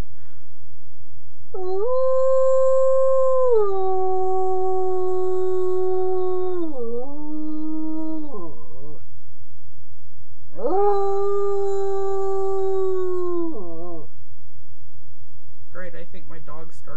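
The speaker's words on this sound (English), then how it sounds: "Great, I think my dog's starting to howl." An Alaskan Malamute and a Basset Hound howl in long, loud, wavering tones, two sustained howls separated by a short pause, over a steady low hum, with a few brief yips at the end.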